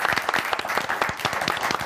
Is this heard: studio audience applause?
yes